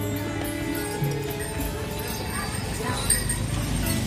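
Hooves of a horse kept in Blora, a horse that accompanies barongan performances, clip-clop steadily over a dense outdoor background with voices talking nearby.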